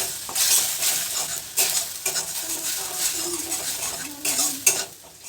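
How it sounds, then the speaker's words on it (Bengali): Spice paste with ginger stirred and fried in a pan, a steady sizzle broken by scraping spoon strokes and occasional clinks, close and fairly loud, with no talking. "এবার মশলাটাকে খুব ভালো করে কষিয়ে নেব।"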